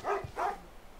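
A dog barks twice in quick succession, short and moderately close, over a quiet background.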